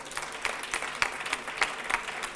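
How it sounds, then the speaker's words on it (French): Audience applause at an environmental business awards ceremony, a steady patter of many hands clapping at a moderate level with no one speaking over it. "on peut encore une fois vous applaudir"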